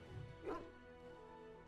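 In the video game Dragon Age Origins, a happy dog gives one brief, soft whimper-yip, faint and close, against a quiet game ambience.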